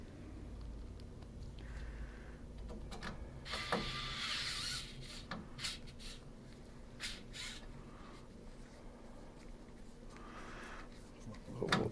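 Screws being driven back into a Commodore 64 case by hand, with small creaking, ratcheting clicks and scrapes at close range, a faint hum in the background.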